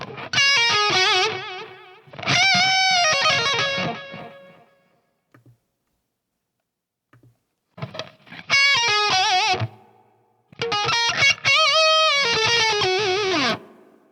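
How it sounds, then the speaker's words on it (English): Distorted electric guitar played through a DIMEHEAD NAMplayer amp-modeling unit with reverb added, sustained chords in several loud bursts separated by silent gaps, notes ringing out with a lingering tail, no talking over it. "Let's go ahead and add a reverb to this."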